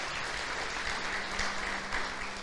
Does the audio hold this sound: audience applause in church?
yes